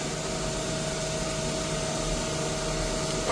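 A Miyano BNC-34C CNC lathe runs a dry cycle, a steady whirring machine drone with a constant tonal hum, close and unbroken.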